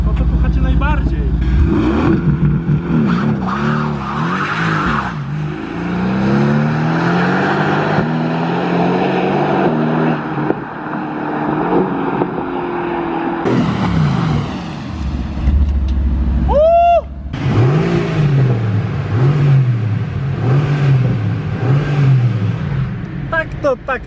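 A Mercedes-AMG GT R Pro, a limited-run sports car, accelerates hard on a straight with a loud, rising engine roar through several gear changes, and a voice speaks over it at times.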